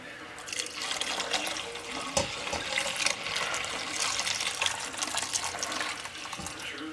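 Chicken or vegetable stock poured into a soup pot over broccoli for cheesy broccoli soup, a steady liquid splash and gurgle that runs continuously for several seconds close by, with no talking.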